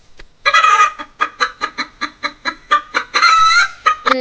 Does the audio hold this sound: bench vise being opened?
no